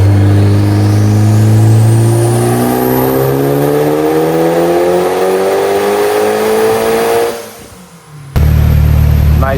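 Mitsubishi Evo on a stock block with an AGT 64mm turbo, running E85 through a dyno pull: a loud engine climbing steadily in pitch through the revs, then cutting off briefly before a roaring burst returns.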